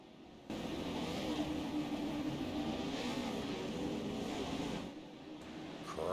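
Off-road racing truck engines from a Pro4 4X4 Super Truck championship video game rev together at the start line, a steady loud engine roar lasting several seconds before dipping slightly near the end.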